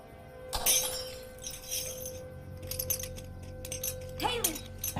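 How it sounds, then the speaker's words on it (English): A drinking glass knocked over indoors shatters with one sharp crash, followed by scattered tinkling fragments and faint voices in the background. "I'm sorry, Mom. I knocked over my glass."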